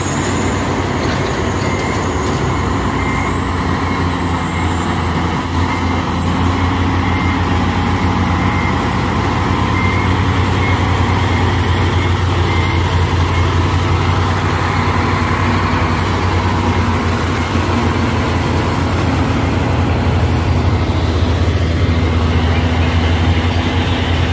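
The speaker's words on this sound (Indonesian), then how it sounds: "di sana juga ada truk trailer ya, trailer mau nanjak juga." A trailer truck's engine labors up a hill on a road over Bukit Kodok, a steady loud rumble with continuous road and traffic noise, no talking.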